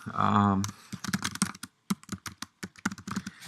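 Someone types steadily on a computer keyboard, quick irregular clicks in short bursts with brief pauses; a short voiced hum opens it before the keystrokes.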